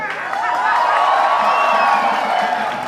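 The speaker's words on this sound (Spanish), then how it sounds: "Los saludamos con un fuerte aplauso" A crowd cheers and claps, a swelling wash of voices and whoops with applause underneath, fairly loud and sustained for a few seconds.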